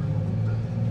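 A truck rumbles past nearby, a steady low engine drone holding at the same loudness for the whole second with no voices over it.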